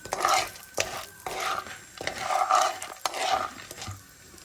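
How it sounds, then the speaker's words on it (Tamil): Popcorn kernels roast in a pan under repeated rhythmic stirring, each stroke a short scraping rush followed by brief pauses, with a faint sizzle beneath and no talk. "நல்லா நல்லா வறுக்கணும். கொஞ்சம் நல்லா வறுக்கணும்."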